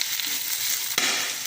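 Ingredients with mint sautéing in oil in a home kitchen pan, giving a steady close hiss and sizzle, with one brief stir or scrape near the middle and no talk.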